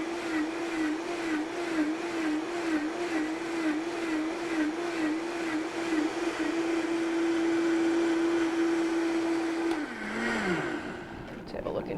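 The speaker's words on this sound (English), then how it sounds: "What you hear is the butter coming around the spinning blades." A food processor churns cultured cream into butter, its motor humming steadily with a rhythmic, pulsing wobble as the mass thumps around the spinning blades, before the motor winds down near the end.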